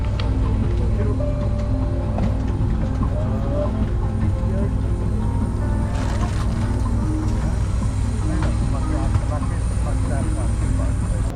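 Aircraft engines whine and drone steadily at Delhi airport while an IndiGo plane boards, with a continuous loud hum and faint background voices.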